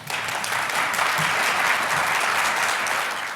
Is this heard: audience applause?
yes